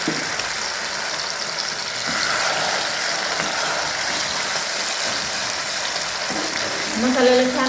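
Ground masala frying in hot oil with cumin seeds and curry leaves for a green-chili brinjal dish, a continuous close sizzle with scraping stirs throughout.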